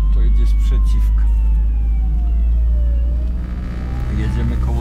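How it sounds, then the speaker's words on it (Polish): An ambulance siren wails in long gliding tones, passing in the oncoming lane, heard from inside a moving car over a loud, steady road rumble. "ktoś tu słyszy jakąś karetkę, ale to jedzie sprzeciwka"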